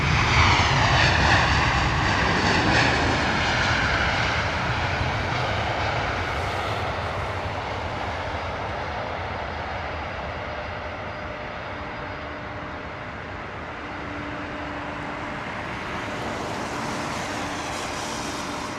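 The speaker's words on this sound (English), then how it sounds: "Here's our United 767 right in front of us." A United Boeing 767 jet roars loudly at Heathrow, its broad engine rumble and whine slowly easing over about nineteen seconds with a steady tone underneath, and no voices.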